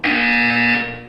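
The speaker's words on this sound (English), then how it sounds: "When you hear the buzzer, look up at the ceiling." A single loud, steady electronic buzzer from the video game Portal 2 sounds for about a second with a harsh, tonal drone, then cuts off cleanly.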